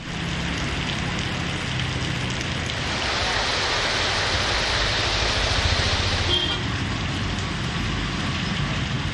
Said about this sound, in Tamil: நீலகிரி மாவட்டத்தில் கூடலூர் மற்றும் பந்தலூர் உள்ளிட்ட இடங்களில் கனமழை வெளுத்து வாங்கியது